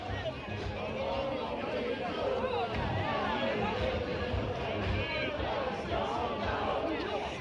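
A rally crowd gathered in front of the AFSCME union hall on Beale Street in Memphis fills the air with a steady, dense hubbub of overlapping voices and chatter, a near and unbroken wash of sound.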